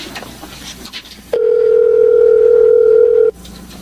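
A phone call rings out on a cellphone as a single long, steady electronic tone that starts abruptly, holds for about two seconds at high volume, then cuts off, with faint room noise before and after.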